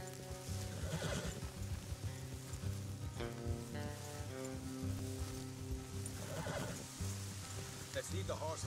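A horse neighs and whinnies a few times over steady ambient background noise in Red Dead Redemption 2, with brief hoof and rustling sounds between calls.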